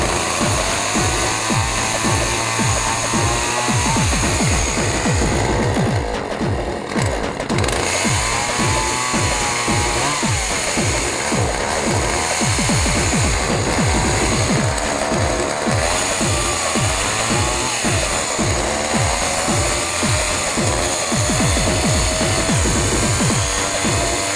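A Poulan chainsaw runs loud and close for the whole stretch, its engine revving up and down in steady surges with a continuous raspy two-stroke buzz.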